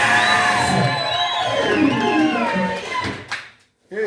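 A church congregation at New Judeah Church in Kapsabet, Kenya, cheers and shouts praise to the Lord. Many overlapping voices sound loud and close, swelling and wavering together before dropping off abruptly near the end.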